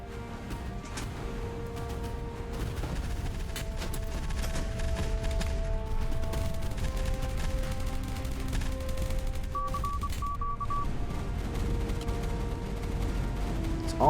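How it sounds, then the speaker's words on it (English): HE cannons fire in a WW2 naval battle in the Boat Crew game, a dense, continuous barrage of rapid shots and booms over a low rumble, held at a steady level. "Let's call in some HE cannons."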